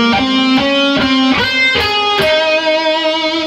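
An electric guitar plays a slow phrase from a solo, with a handful of distinct sustained notes, bends and vibrato, loud and close, on its own.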